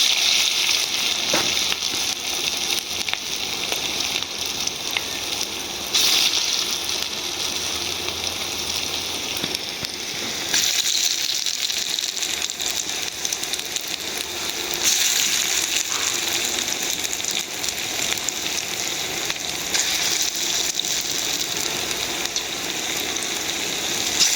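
Lentil fritters (bora) frying in hot oil over a low flame, a continuous bright crackling sizzle with small bursts and slight shifts in intensity, close and unbroken.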